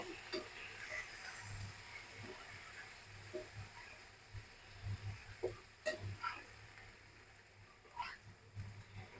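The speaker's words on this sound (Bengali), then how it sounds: "হলুদ এবং লবণ দেওয়ার পর ভালোভাবে মিশিয়ে দিতে হবে" Turmeric and salt are stirred into a dish for vegetarian dhoka, a Bengali lentil-cake curry, with a faint background sizzle and scattered soft scrapes and clicks of a spoon against the pan, quiet and close.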